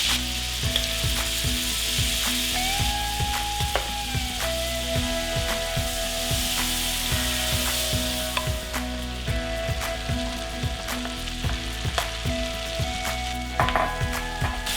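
Half a stick of butter and minced garlic frying in bacon fat in a pan, a loud close steady sizzle with crackles and occasional clinks of a utensil stirring, no talking.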